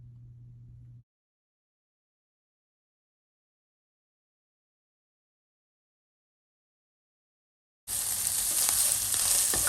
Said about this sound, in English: Cooking down some sausage here, fixing to make some biscuits and gravy.